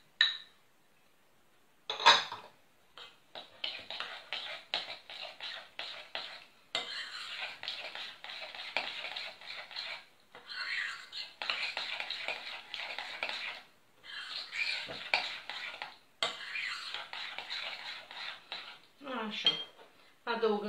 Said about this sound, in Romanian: Amestecați bine toate ingredientele până se topește zahărul.